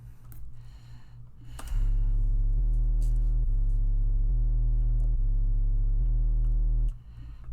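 A song's synth pattern with a heavy sub bass: after a brief quieter lead-in, a loud, deep droning bass enters under a repeating chordal synth figure that steps every bar, then cuts off near the end.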